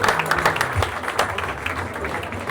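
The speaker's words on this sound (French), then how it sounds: "On peut applaudir Bastien Martinez." A crowd at a professional boxing event applauds a fighter being introduced, a dense wash of clapping with some crowd noise, loud and continuous throughout.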